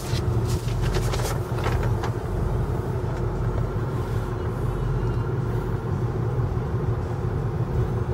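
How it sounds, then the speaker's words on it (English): A 2008 Ford F-250 XLT crew cab 4x4 with a turbo diesel idling at a dealership lot, giving a steady low rumble with a faint high whine on top, heard close and continuous throughout. "Wow, those turbos sound nice."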